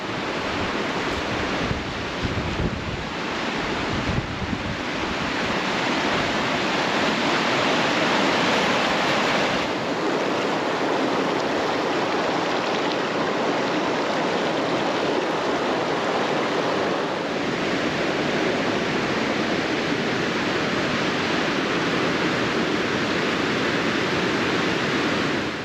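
Creek flowing beside a sheltered Sierra campsite, a steady, dense rushing wash of water that stays loud and constant throughout, with no voices.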